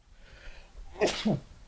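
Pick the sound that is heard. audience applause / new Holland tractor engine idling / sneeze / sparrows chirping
sneeze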